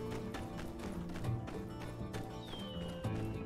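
In the video game My Time at Sandrock, a horse whinnies while hooves clip-clop steadily, set against a busy background of game music and ambience.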